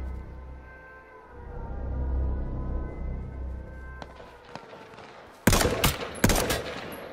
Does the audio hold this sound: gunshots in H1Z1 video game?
yes